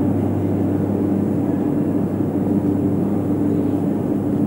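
Steady low rumble of electric rail traction and passing airplanes in Moscow, a continuous loud drone with a strong hum and broadband roar held evenly throughout, with no voices.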